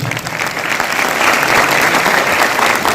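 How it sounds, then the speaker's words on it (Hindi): Loud, dense applause fills a business seminar hall, a continuous roar of many hands clapping together, sustained and even throughout with no talk over it. "एक जोरदार ताली दोस्तों।"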